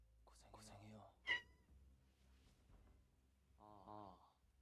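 A cat meows a few times in quick succession, soft and close, while people talk quietly around it.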